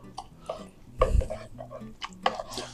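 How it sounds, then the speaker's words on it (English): A spoon stirs beef bulgogi marinade in a bowl, with soft wet swishing broken by a few sharp clinks of utensil against the dish, close and intermittent. "All right, so we'll give this a stir."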